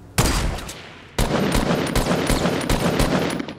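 Rapid bursts of automatic gunfire in Fortnite crackle loudly and continuously, broken by a brief pause near the start, with no talking.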